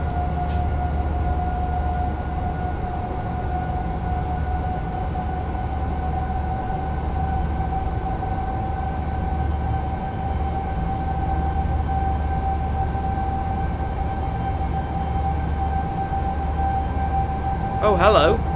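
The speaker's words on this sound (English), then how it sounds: "I'm overtaking a freight train" A freight train rumbles steadily alongside a DB BR 101 electric locomotive hauling an IC from Salzburg to Rosenheim in Train Sim World, with a constant low drone and whine that swells briefly near the end.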